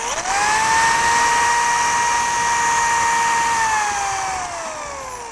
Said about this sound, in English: we're going to drill our pilot holes